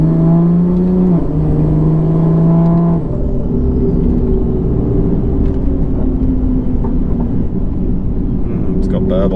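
A BMW F80 M3 converted to a single turbo with an 8-speed gearbox drones steadily while driving, engine tone dropping as it shifts, with a constant loud cabin rumble and faint crackles near the end.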